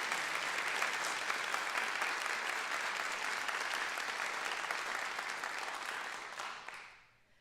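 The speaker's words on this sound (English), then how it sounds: "So let's have a round of applause for the Connors" Audience applause at a young chamber musicians competition concert, a steady wash of clapping from a large crowd that holds for about six seconds and then fades out.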